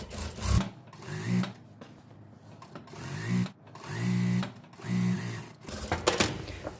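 A sewing machine stitches a gathered skirt in several short whirring bursts separated by pauses, close and moderately loud, with quiet handling noises between runs.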